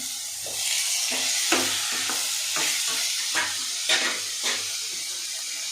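Two tomatoes with onions frying in a hot pan, giving a steady loud sizzle and hiss with periodic scrapes of stirring close up.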